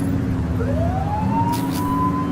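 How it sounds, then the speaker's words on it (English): Police car siren wailing in the video game The Precinct, a rising electronic tone that sweeps up and holds steady over a continuous low engine and road rumble, loud and close, with no talking. "flip the siren to make them pull over"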